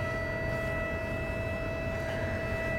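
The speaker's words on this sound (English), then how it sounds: "I don't think I could not notice my siren." A siren on a cattle operation sounds a steady, unbroken tone at fairly loud volume throughout, set against a rumbling outdoor background with no talking.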